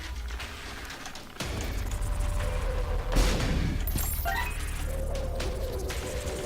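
A bomb blows up in The Binding of Isaac: Afterbirth, a loud crashing burst amid continuous game music and effects, followed by scattered clattering debris-like sounds.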